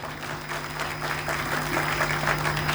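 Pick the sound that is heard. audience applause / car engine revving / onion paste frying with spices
audience applause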